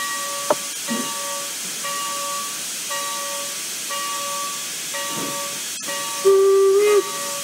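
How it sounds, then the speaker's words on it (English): Steam locomotive in a train video game hissing steam, a constant loud hiss with pulsing tonal chuffs and a brief higher whistle-like tone near the end, no talk. "that thing is bleeding steam"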